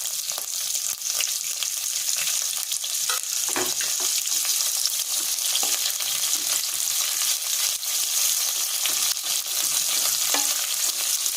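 Two chopped onions fry in a pan with green chilli, a loud, continuous close-up sizzle with occasional scrapes of stirring throughout.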